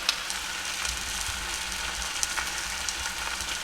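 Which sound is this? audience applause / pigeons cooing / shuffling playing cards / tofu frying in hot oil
tofu frying in hot oil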